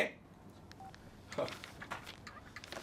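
A few brief, faint public telephone keypad tones sound over a murky background hiss, spaced irregularly rather than in a steady run.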